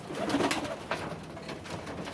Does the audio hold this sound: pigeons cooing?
yes